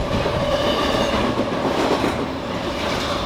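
A long BNSF freight train led by ES44C4 locomotives rumbles past close by in La Plata, Missouri, steady heavy rolling noise with rhythmic clacking of wheels on the rails.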